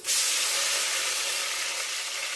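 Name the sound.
tomatoes sizzling as they are added to hot oil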